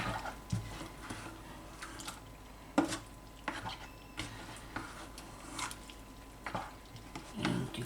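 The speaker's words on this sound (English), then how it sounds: "Now I'm going to mix that." Wet squishing and soft dripping as fresh salmon and other ingredients are mixed together by hand in a kitchen bowl, with scattered slaps and clinks in short, irregular bursts, fairly close and moderately quiet, with no talking.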